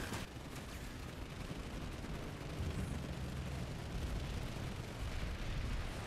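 Gauss SAW machine gun fire in Planetside 2 on PS4, a continuous rattling stream of shots blended with distant explosions and battlefield rumble, fairly faint and dense throughout.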